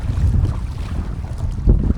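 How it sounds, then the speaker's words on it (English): Choppy lake water slaps and churns around an inflatable kayak amid heavy wind buffeting on the microphone, a loud, continuous rumble with irregular splashy surges and no talking. "See, water's starting to pick up right now. Yep. Oh yeah, it's choppy now."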